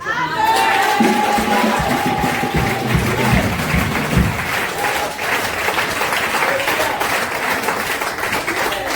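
A crowd at an evangelistic church gathering applauds loudly and steadily, dense clapping filling the whole stretch with some shouts mixed in near the start.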